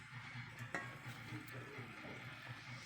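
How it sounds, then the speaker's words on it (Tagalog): Pancit ingredients and chicken necks boil and sizzle in a pot, giving a steady bubbling hiss with light clinks of utensils and one sharp knock, close up and with no talking. "kumukulo na po ang ating sangkap at chicken neck"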